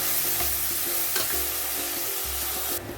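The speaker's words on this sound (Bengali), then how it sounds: "এখন আদা রসুনের পেস্টটা দিয়ে ভালো করে কষিয়ে নেব আর একটু হলুদ গুঁড়ো দিয়ে দেবো" Ginger-garlic paste fries with turmeric for a paneer mushroom curry, producing a constant close sizzle over a low steady hum, with a brief louder scrape midway.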